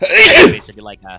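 One loud, sharp sneeze bursts out close to the microphone, followed at once by someone talking.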